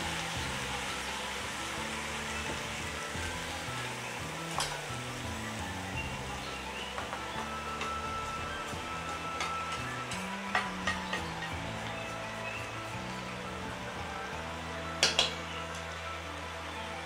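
Minced meat sizzling in a pan with already-cooked vegetables for spring rolls: a steady, close frying hiss with crackles, plus a few sharp clinks and scrapes of stirring, and no talking.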